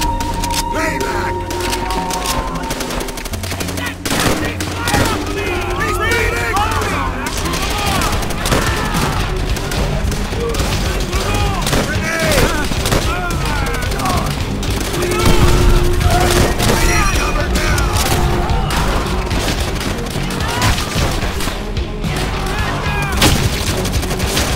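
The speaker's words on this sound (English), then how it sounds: "Machine gun!" Dense, continuous machine gun fire from Call of Duty: World at War, with sustained bursts and cracking shots layered over one another, while voices shout over the battle throughout.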